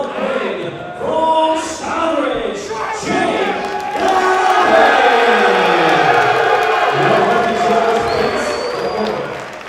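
Crowd at a live boxing event cheering and shouting steadily, swelling louder midway and staying dense to the end, with commentary voices mixed in.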